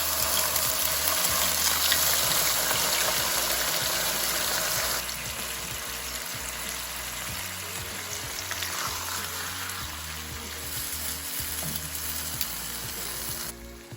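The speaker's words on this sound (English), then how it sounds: "heat up some oil and we're gonna brown our pork steaks" Pork steaks browning in hot oil in a pan, a steady loud sizzle and crackle of frying that runs continuously without talk, easing slightly partway through.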